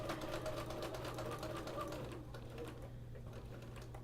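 A sewing machine quilting fabric runs in a steady, rapid stitching rhythm, close and fairly quiet, slowing a little toward the end.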